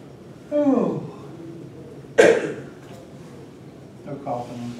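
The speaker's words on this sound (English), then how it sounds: "No coughing in place." A voice makes a short vocal sound, then a single sharp cough rings out, followed by faint murmuring.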